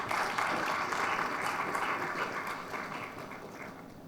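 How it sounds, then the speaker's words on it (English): An audience gives sustained applause, a broad even wash of clapping that fades slightly toward the end. "Please give him a round of applause if he's here."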